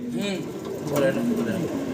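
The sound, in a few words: pigeons cooing at a large pigeon farm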